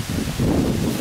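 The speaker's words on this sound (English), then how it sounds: "It's a little windy today." Wind buffets the microphone in a brief, low, rumbling gust.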